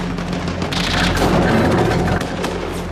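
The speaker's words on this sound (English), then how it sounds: "conducting an airstrike on it" A heavy, rumbling airstrike explosion from the war drama The Pacific booms loudly and swells into a sustained roar that lasts about two seconds.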